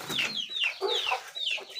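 Aseel chickens cluck and squawk close by in a series of quick, overlapping calls, several birds vocalizing without pause.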